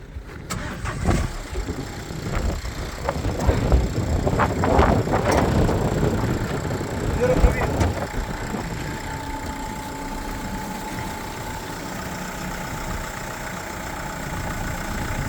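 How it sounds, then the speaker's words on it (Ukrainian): A 1.5-litre diesel engine of a 2016 Renault Kangoo cranks and catches, revving briefly before settling into a steady, rumbling idle close by. "Зараз вам заведемо, покажемо роботу двигуна."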